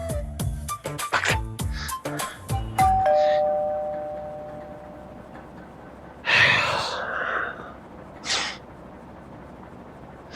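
A doorbell in an apartment building rings as a quick run of bright chime tones, ending on one tone that lingers and fades. Gasps and breathy sounds from people follow in the quiet room.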